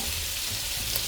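Tortilla lightly toasting on a dry skillet for shrimp fajitas, giving a soft, steady sizzle with faint crackle throughout, close and fairly quiet.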